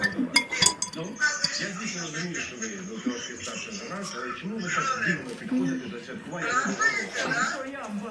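Plates and dishes clink and clatter in a home kitchen in repeated light bursts, with people talking close by throughout.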